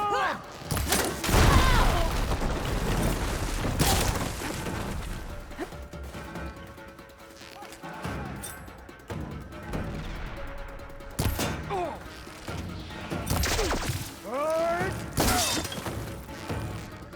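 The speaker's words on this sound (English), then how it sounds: "Throwing bomb!" Bombs thrown and bursting in Horizon Forbidden West, several loud shattering blasts and crashes spread unevenly across the stretch, with game voices and effects between them.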